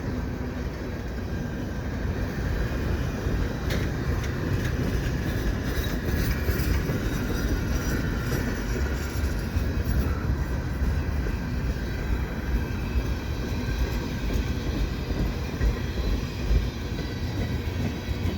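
A CN freight train hauling many tank cars rolls past at Dorval in winter, a steady, loud rumble of wheels and cars with faint clickety-clack holding evenly through the whole pass, no voices.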